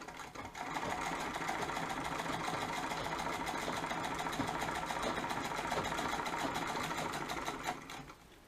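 A Singer 66 treadle sewing machine stitches fabric at a steady rapid clatter, close and continuous for several seconds before slowing and stopping, with no talk.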